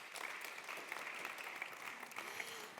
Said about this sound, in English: Yes, a round of applause.